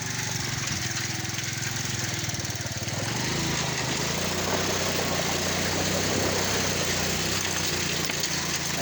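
A motorcycle engine runs steadily on a rough, uphill farm road, a close, continuous mid-pitched drone whose tone shifts upward partway through as the bike works harder.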